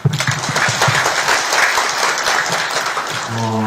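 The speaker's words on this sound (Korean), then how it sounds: "다시 한번 박수, 정예 박수 보냅니다." Applause from an audience at a Gyeonggi education administration forum, a dense steady patter of many hands that fills the room, then thins near the end as a low tonal hum rises.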